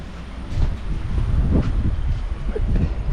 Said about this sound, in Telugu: ప్రజెంట్ వచ్చేసరికి బోధాన్ కాచిగూడ ప్యాసింజర్ అయితే ఎంటర్ అవుతుంది మసాయిపేటలోకి